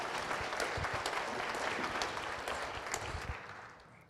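Audience applause at a parish sheriff and city marshal candidate forum, a full crowd clapping in a dense, steady wash that fades out toward the end.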